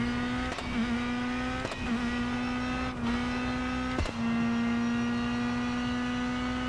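A rally car engine held at full throttle in the racing game WRC 10, a steady high-pitched drone with sharp clicks at each gear change, loud and continuous with no talking.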